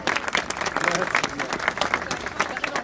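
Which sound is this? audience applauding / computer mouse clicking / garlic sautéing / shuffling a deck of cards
audience applauding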